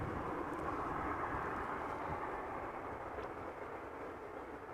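An airliner landing at Amsterdam Schiphol Airport makes a steady, broad engine roar that holds evenly throughout at a moderate distance, with no voices.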